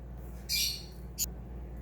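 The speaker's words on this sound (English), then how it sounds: "Sorry about the birds. Every time I talk, they start chirping" Indoor birds let out two bursts of shrill squawking and chirping, a longer loud one followed by a short sharp call, over a low steady room hum.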